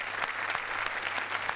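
Audience applause in a television comedy show studio: steady, dense clapping from a crowd, moderately loud and continuous, with no talking.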